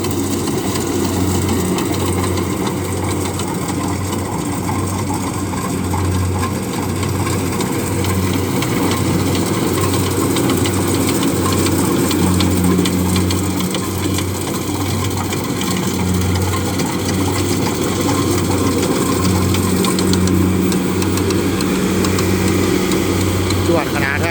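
A Kubota DC70G Plus combine harvester's engine runs at a steady idle, with a low pulsing rumble close by throughout. Voices talk over it.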